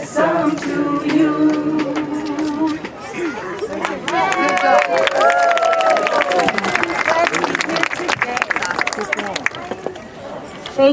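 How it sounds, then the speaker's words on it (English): A crowd at a ceasefire rally claps and cheers for a singer, dense applause with overlapping voices and chatter building through the stretch, heard close and loud. "Another round of applause for Barb, everyone"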